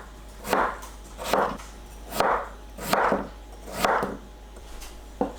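Kitchen knife cutting quartered potatoes into 1.5 cm thick slices on a board, five or six evenly spaced dull chops close by, with no voice.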